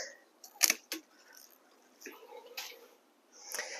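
Pruning shears snip the stem of a jalapeño pepper plant, making a couple of sharp, close clicks followed by faint rustling of the leaves and handling noise, quiet overall.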